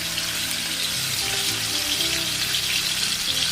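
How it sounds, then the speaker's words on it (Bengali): Snakehead fish frying in a pan gives off a steady, fairly loud hiss and sizzle of hot oil, close and unbroken throughout, with faint crackles underneath. "মাছটা ধুয়ে ভাজতে দিলাম"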